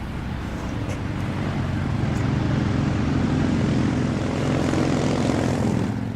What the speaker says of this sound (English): Adam, they're Harleys. They're supposed to be loud, you know